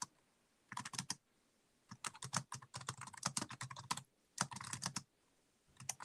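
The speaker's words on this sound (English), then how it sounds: "going ahead and typing in a question" Bursts of rapid clicking keystrokes on a computer keyboard, typed in several quick runs separated by short pauses, close and fairly quiet with no voices.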